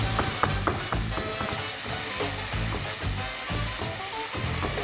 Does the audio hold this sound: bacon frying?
yes